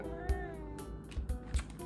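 A house cat meows close by in a drawn-out, wavering cry over a steady background hum, with a few soft thumps mixed in.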